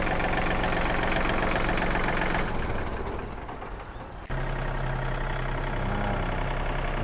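A Yanmar EF393T 39-horsepower tractor engine runs continuously with a loud, rough diesel drone. It dips briefly in the middle, then returns to a steady idle-like rumble.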